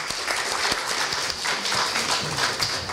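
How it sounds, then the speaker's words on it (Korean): A university audience at a welcome event for foreign freshmen claps to greet an interpreter, a brief burst of loud, dense applause sustained evenly throughout with no talking. "박수로 맞아주십시오"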